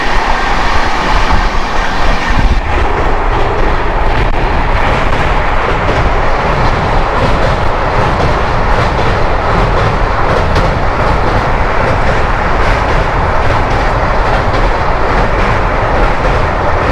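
The Howrah Pune Duronto Express 12222 speeds through Kolaghat station, heard loud and close from on board as a constant roaring rumble with rapid clickety-clack from the wheels and no voices.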